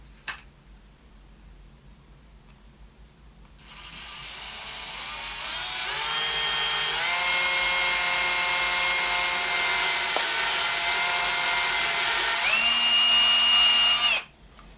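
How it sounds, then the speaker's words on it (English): A power drill bores a hole during a guitar build, starting after a few seconds of quiet and running as a loud, steady high whine whose pitch shifts under load before it stops abruptly. "I just need to find the drill"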